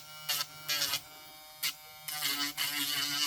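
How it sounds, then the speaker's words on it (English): A Dremel rotary tool whines in short close bursts while grinding a UV resin heart, a high buzzing motor pitch that starts and stops several times. "if it's your first time using a Dremel"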